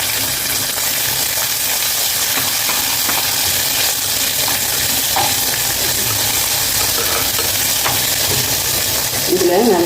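Garlic sizzles and fries in a pan, a dense continuous crackle with occasional stirring scrapes, steady and close with no clear speech over it.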